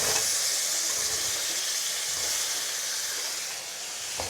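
Potatoes frying in hot oil with whole cumin seeds, a steady broad sizzling hiss that holds evenly close-up for a few seconds, ending on a small sharp clatter.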